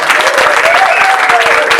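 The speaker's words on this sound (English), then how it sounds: "how about a round of applause for our amazing band leader, banjo player, singer extraordinaire" Applause from a coffeehouse audience at a live bluegrass show, close and loud, with dense clapping and a few cheers filling the short stretch.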